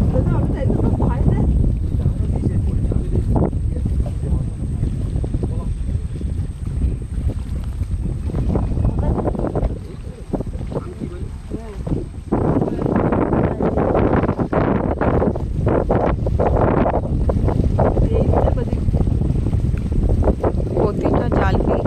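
Strong wind buffeting a small fishing boat on the Garal river during a storm, with waves slapping the hull and water splashing aboard; a steady loud roar of gusts fills the whole stretch, and someone talks over it.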